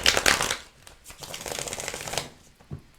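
Tarot deck being shuffled by hand during a Celtic cross reading, a quick run of riffling card flutters, loudest at the start, then a longer softer shuffle before a brief tap at the end.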